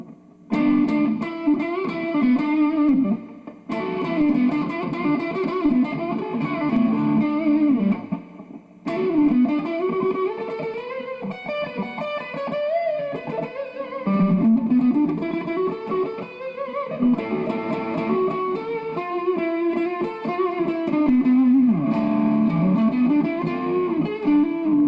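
An electric guitar played through a Peavey Classic 30 tube amp with reverb, sustained distorted chords and bending melodic lines, loud and continuous with brief breaks.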